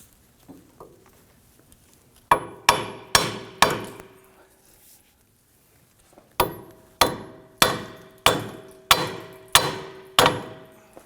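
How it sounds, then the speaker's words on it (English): Sharp metallic hammer taps ring out in two runs, about four strikes then seven, evenly spaced and close, each with a short metallic ring, tapping a steering knuckle off the strut on a 2008-2011 Ford Focus. "I'm going to go ahead and tap this down off of our strut assembly"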